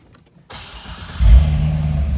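A 2011 Corvette Grand Sport convertible fires up from its push-button start, a brief starter whir catching into a loud, deep engine roar that settles into a rumbling idle, close by with no talk.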